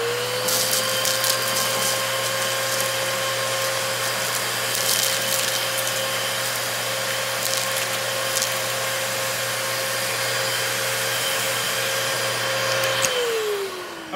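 A Dyson DC33 Multi Floor upright vacuum cleaner runs steadily in hose suction mode, a constant close whine and airflow roar holding for many seconds before the motor pitch drops as it begins to wind down at the end.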